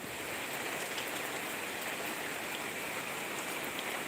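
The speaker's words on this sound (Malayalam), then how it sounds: "വെയിലും മഴയും കുറുക്കൻ്റെ കല്യാണം." Rain falling while the sun shines, a steady, even patter of drops that holds at the same level throughout with no voices.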